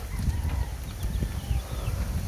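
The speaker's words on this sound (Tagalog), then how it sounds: "Ito rin mga inahin." Hens kept alongside fighting roosters at a backyard home cluck softly and intermittently over a steady low rumble of background noise.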